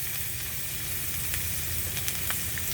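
Chopped garlic sizzles in hot margarine in a pan for pork steak, a close, steady frying crackle with a few sharper pops, no voices.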